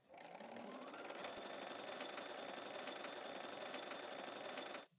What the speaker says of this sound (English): we're ready to sew corner to corner